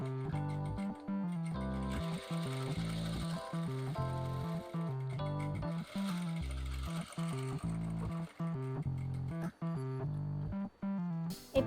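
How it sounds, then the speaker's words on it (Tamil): A sewing machine stitches a visible zip seam in bursts of rapid mechanical whirring, pausing briefly between runs, close and clear with no speech. "ஒரு 1/4 இன்ச் வெளிப்பக்கமாக அப்படியே ஸ்டிச் கொடுங்க."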